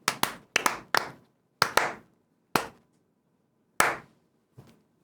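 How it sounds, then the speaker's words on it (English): A slow clap of about seven or eight single hand claps, sharp and close, spaced unevenly with long gaps, the final one softer. "Hasbro, slow clap."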